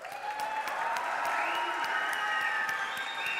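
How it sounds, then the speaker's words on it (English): Sustained audience applause for Ernie DeSico, a longtime staff member honored for three decades at a Mt. Olive school event, steady dense clapping filling the room with some cheering mixed in. "How about a big round of applause for Mr."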